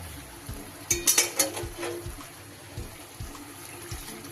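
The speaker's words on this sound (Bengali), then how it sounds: "তাই এতে আমি এবার একটু সামান্য জল অ্যাড করে দেব।" Water poured into a simmering chicken dopeyaza gravy in a pan, a short trickling splash near the start that fades into low kitchen background noise.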